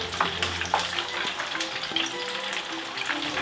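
Pieces of fish crackle and sizzle in hot oil, a steady close-up frying hiss with scattered pops and spits throughout, no voices over it.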